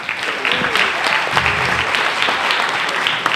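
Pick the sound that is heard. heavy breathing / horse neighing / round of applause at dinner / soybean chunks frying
round of applause at dinner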